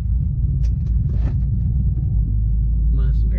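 A car with a noisy steering rack drives on a road, heard from inside as a steady low engine and road rumble, with brief faint knocks and rattles over it.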